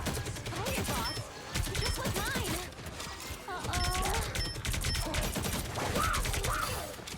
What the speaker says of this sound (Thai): โอ้โหระเบิดเต็มเลย